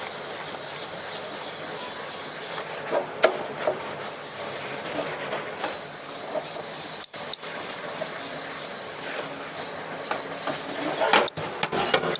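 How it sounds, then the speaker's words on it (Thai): Steady abrasive scrubbing against a steel wok, a continuous rough scraping with running water hiss, broken by a few brief pauses and clanks. "ล้างขัดขัดขัด ขัดขัดขัดตรงไหนที่เราเห็นว่ามัน ไม่สะอาด"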